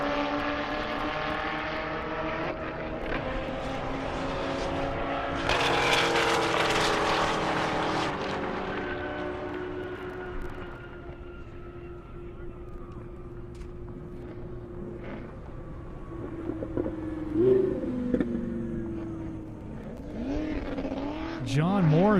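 A 1,002-horsepower Corvette ZR1 drag racing on a half-mile airport strip at Indy, engine roar building loudly mid-clip then fading into the distance, with an announcer talking over the run.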